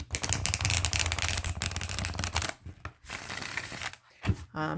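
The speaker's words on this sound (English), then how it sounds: "I'm just trying to show you that it does shuffle very well." Rapid fluttering riffle of new Encore Tarot cards being shuffled, loud and close, in a few bursts separated by short pauses and handling noises.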